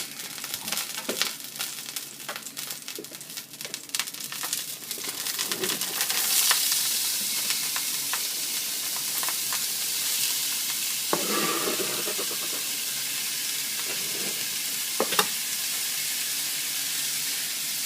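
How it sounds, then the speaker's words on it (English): Onion hits hot oil in a pan for seafood fettuccine, and a bright, hissing sizzle swells after a few seconds of stirring clatter, then holds steady and close with occasional utensil knocks. "And in goes the onion."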